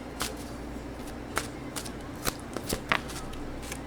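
Playing cards are shuffled and riffled in quick, faint bursts over a quiet indoor background during a tarot reading, with soft taps and flicks scattered irregularly.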